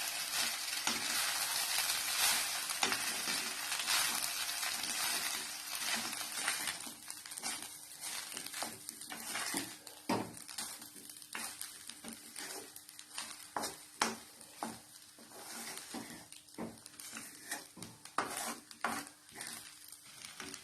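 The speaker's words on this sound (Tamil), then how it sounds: "இப்ப இது எல்லாத்தையும் நல்லா பெரட்டி விட்டுக்கோங்க." Garlic pepper rice being stirred and tossed in a pan, a faint steady sizzle under repeated scraping and tapping of a spoon against the metal.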